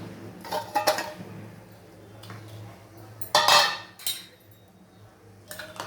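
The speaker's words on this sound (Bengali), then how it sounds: "এবার বড়িগুলো দিয়ে দিচ্ছি" Bori lentil dumplings dropped into a cooking pot of water, giving a few sharp close clatters and clinks of utensil against metal pot in short clusters, separated by quiet stretches.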